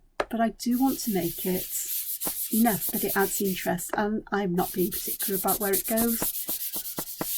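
A wobbly craft table squeaks and rubs steadily while ink is dabbed onto a frame with craft foam, the scraping friction continuing beneath someone talking almost nonstop.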